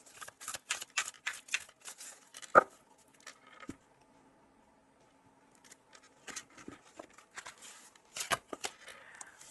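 Tarot cards being shuffled by hand, several bursts of quick riffling and slapping close by, separated by a quiet pause, with no talking.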